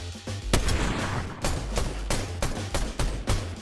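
Rapid gunfire in the video game Fortnite: a string of sharp, loud shots cracking at irregular intervals over a dense, rumbling battle din, with no talking.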